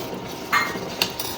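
Steel utensils and dishes clinking as they are arranged in a home kitchen, two or three short bright clinks over low background noise.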